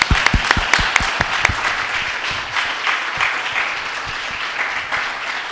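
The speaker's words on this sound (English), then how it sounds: "let's give them a round of applause" An audience applauds a My Father's Dragon panel, opening with a few sharp, distinct claps before swelling into steady, dense clapping that holds at a moderate level throughout.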